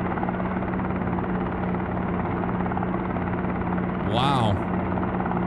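A helicopter rotor in a simulator video game whirs steadily, with a brief swooping sweep near the end.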